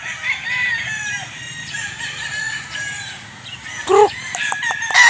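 A bullstag rooster on a Filipino farm crows loudly nearby in one long drawn-out call, followed by short clucks, with other fowl and background chatter faint behind it.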